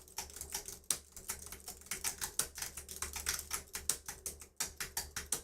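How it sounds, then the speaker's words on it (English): Rapid keyboard typing in a steady rhythmic pattern, many crisp close keystrokes clicking evenly with occasional stronger accented taps and a brief pause partway through. "she's typing on a certain rhythm"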